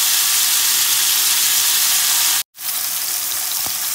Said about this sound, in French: mes légumes sont en train de cuire gentiment